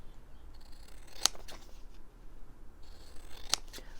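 Scissors snip through paper for a junk journal, two quiet separate cuts a couple of seconds apart over a soft room background, no voices.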